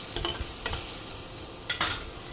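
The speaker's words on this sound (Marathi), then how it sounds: "कांद्याला सुद्धा मी परतून घेत आहे." Chopped onion and garlic sauté in oil in a pan for a home khichdi, giving a soft steady sizzle with a few scraping stirs close by, no voices.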